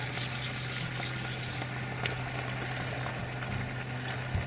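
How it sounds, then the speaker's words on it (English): Tablespoon of butter melting into a sizzling lemon-caper pork piccata sauce in a pan, a constant bubbling fry under a low hum, with one faint clink. "So at this point, I'm going to put in a tablespoon or so of butter."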